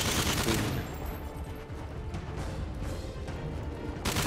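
Dense, continuous automatic gunfire in a Modern Warfare 3 Spec Ops survival match on the Arkaden map, a loud rattling fusillade with intermittent sharp reports throughout.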